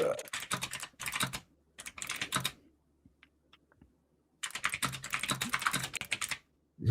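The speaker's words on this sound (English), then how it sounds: "Who's she typing to?" Bursts of rapid typing on a computer keyboard, close and clear, with pauses between runs and a few isolated key taps in the gap; no talking.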